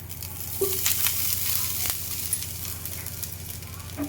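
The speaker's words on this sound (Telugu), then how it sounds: "కొంచెం నెయ్యి వేసి కొంచెం వేయించుకుందాం కొబ్బరి కొబ్బరి వేసుకుందాం" Grated coconut frying in ghee in a pan gives a steady, close sizzle with a few light stirring taps, continuous and moderately loud with no talking.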